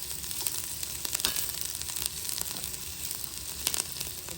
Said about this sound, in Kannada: ಇಲ್ಲಿ ಸಾರು ಚೆನ್ನಾಗಿ ಕುದೀತಾ ಇದೆ.